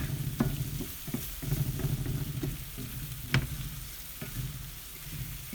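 Deer pot pie filling being stirred in a pan with a spoon, scraping and sloshing in steady strokes over a soft sizzle, close up and with no talk.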